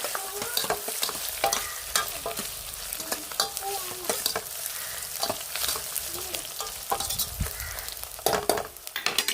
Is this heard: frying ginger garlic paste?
yes